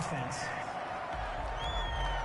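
Crowd noise at an NFL game, Kansas City Chiefs at Baltimore Ravens, builds into a steady roaring wash with scattered whoops, heard behind talk.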